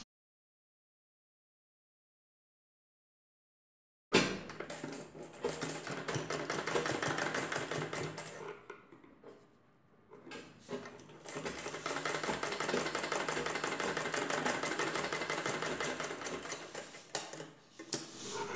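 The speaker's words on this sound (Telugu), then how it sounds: "ఇలా పెట్టి ఇప్పుడు కుట్టు వేసుకోవాలి." A sewing machine stitching fabric for a tassel runs in fast, even, rattling bursts after a silent opening, slows and pauses briefly midway, then resumes its rapid clatter up close.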